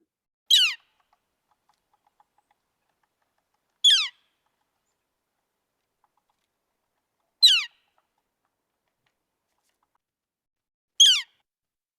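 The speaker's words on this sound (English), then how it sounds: "It is indeed the northern flicker." Four sharp, high calls of a northern flicker ring out alone, evenly spaced a few seconds apart against near silence.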